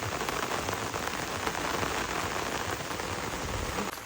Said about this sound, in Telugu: ఘోరంగా ఉంది వర్షం పరిస్థితి